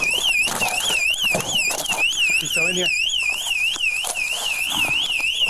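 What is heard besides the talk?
alarm going off in a building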